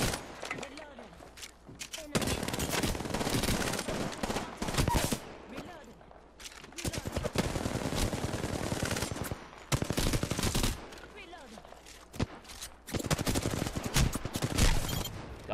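Bursts of rapid automatic gunfire from the video game Apex Legends come in several long volleys with brief pauses between them, loud and close, while a player talks in a few of the gaps.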